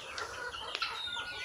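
Chickens cluck softly nearby in a backyard, with a few short calls over a faint background, no talking.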